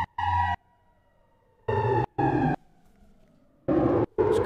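A gated vector FM synth riser from an Ableton sound pack wails like a siren, chopped into loud rhythmic bursts separated by silences, with a faint descending tail between them.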